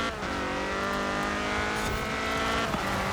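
A Dodge Viper race car in Forza Horizon 4 roars continuously at high revs, a loud, dense engine wail with slight pitch shifts and no talking.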